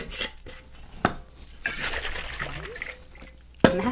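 Homemade lemonade of fresh water and organic blue agave sweetener rattles and sloshes as it is shaken in a container, with irregular liquid splashes and a few sharp knocks, fairly close and alone.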